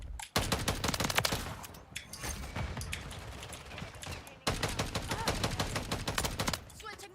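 Call of Duty Modern Warfare 3 gunfire: loud, dense automatic bursts that rattle almost continuously, with a brief break midway before the rapid shots resume.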